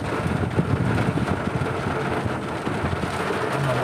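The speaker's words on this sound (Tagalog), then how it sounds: "Ulan na tuloy yan." Steady rain hissing and pattering continuously, fairly loud and close, with a low rumble underneath and no talking.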